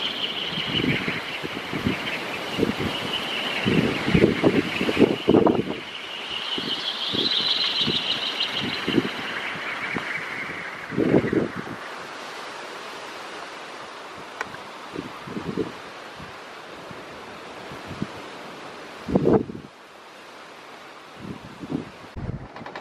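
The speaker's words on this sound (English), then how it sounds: "Oh, here comes a big gust." Strong storm wind buffets a wind turbine, a rushing roar that swells and fades in gusts, with repeated thumps and rattles of wind hitting the microphone, rising to a howl early on.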